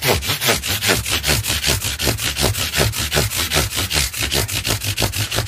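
Sanding with 1500-grit sandpaper on a Hagstrom Ultra Swede guitar: close, loud, rhythmic back-and-forth rasping strokes, roughly three a second, steady throughout with no voices.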